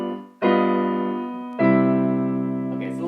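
Two sustained keyboard chords, a dominant chord with a raised fifth, each struck firmly and held, the second following after about a second, loud and close with no talking.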